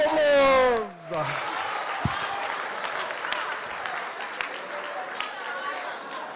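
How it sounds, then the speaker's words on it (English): A conference audience at a digital healthcare event claps together, a steady wash of applause that swells in just after a voice finishes speaking at the start and continues evenly to the end. "Give yourself a round of applause."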